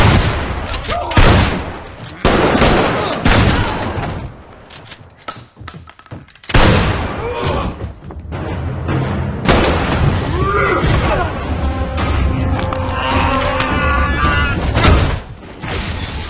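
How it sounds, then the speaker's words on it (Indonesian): A loud burst of gunfire and booming shots, including a flare gun being fired, in a dramatic film scene, with a brief quiet lull before the heavy blasts resume amid voices. "Dia membunuh Frank dengan menembakkan pistol suar ke dalam mulutnya."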